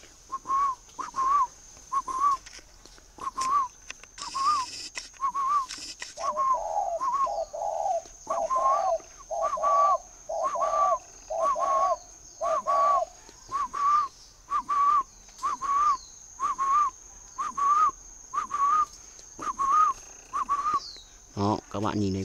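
A spotted dove with red legs coos repeatedly at close range, a steady series of short, evenly spaced two-part calls over about twenty seconds, sounding clear and fairly loud with a faint high whine in the background.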